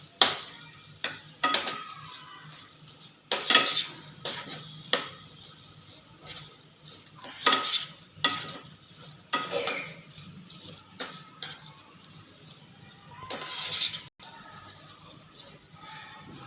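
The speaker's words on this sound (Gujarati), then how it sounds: "પીળી દ્રાક્ષ, કાજુના ટુકડા બધું જ ઉમેરી એકદમ સરસ મિક્સ કરી લઈશું" A spoon scrapes and clinks in a pan as semolina sheera with raisins and cashew pieces is stirred, with irregular bursts of metallic scraping and faint sizzling between them.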